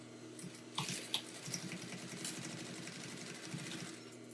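A sewing machine stitching a zipper pouch at a quarter-inch seam, a quiet rapid mechanical whir with rhythmic needle clatter in short bursts and a few clicks.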